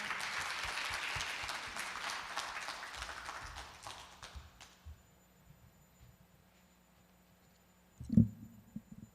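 Audience applause welcoming table tennis coach Hyun Jung-hwa at a women's peace event in Jeonbuk, a faint steady clapping that fades out over about five seconds into near quiet, followed by a brief thump.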